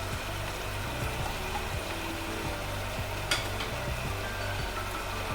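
Chicken masala with tomatoes, coriander, cumin, turmeric, chilli and garam masala sautés in a pressure cooker, a steady close sizzle with soft rhythmic stirring thumps underneath and one brief sharp scrape, no talk.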